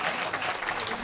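Audience applause at a Hindi comic poetry recital, a dense wash of clapping filling the whole short moment, steady and close with no break.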